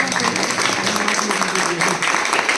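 An audience at a Josh Boxing Academy event in Malihabad claps in a dense, steady burst of applause, moderately loud and sustained over the short stretch, with voices mixed in.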